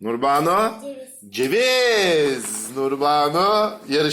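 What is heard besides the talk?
None of the usual background noises is heard.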